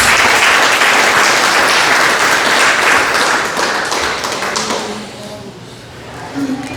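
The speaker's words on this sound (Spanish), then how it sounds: "¿Qué tal si le regalamos un aplauso a nuestro Dios?" A church congregation bursts into loud, close applause offered to God, dense clapping that swells and then fades over several seconds, with a few voices rising near the end.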